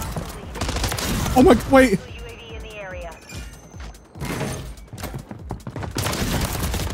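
Sniper rifle fire in a first-person shooter game, with a loud sharp shot burst and game effects, heard under excited talk from a player.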